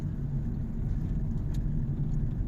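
A 2016 Toyota Prius Alpha running on electric power rolls along with a steady low road and tire rumble. There is no distinct engine note, just the continuous hum heard from inside the car.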